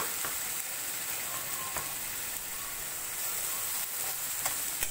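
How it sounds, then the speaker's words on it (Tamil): A ground paste of coconut, fennel and poppy seeds sautés in a pan with a constant bright, hissing sizzle and occasional faint spatula taps, steady and close; no voices. "அதை நல்லா வதக்கிடுங்க."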